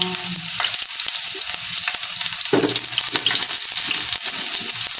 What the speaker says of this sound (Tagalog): Diyan po tayo maggigisa na.